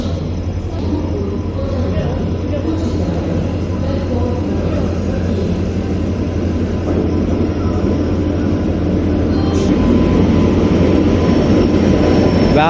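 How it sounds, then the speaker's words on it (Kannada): A loud, steady low rumble from the Karnataka Sampark Kranti Express, train 12650, hauled by a WAP-7 electric locomotive, as it arrives on the Hubballi to Yesvantpur route. The drone stays heavy and constant without letting up. "ಟ್ರೈನ್ ಬಂತು."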